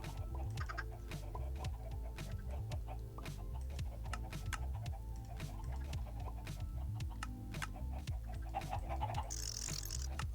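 Chickens in the Minecraft video game, fifteen or twenty spawned into an auto cooker and egg farm, clucking and squawking over and over across a steady, dense bed of game sound, with no talk.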